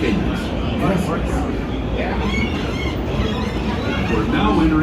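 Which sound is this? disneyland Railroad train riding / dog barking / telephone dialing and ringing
disneyland Railroad train riding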